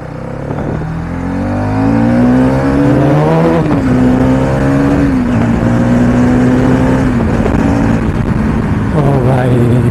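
A Hero Karizma XMR 210 motorcycle accelerating hard, its engine note rising close and loud through the gears with brief dips at each shift, a strong revving whine that holds high to the end.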